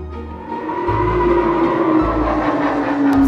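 A cartoon ghost train rolls along steadily and loudly, a continuous rumbling clatter with a sustained tonal hum, heard close and alone with no talk.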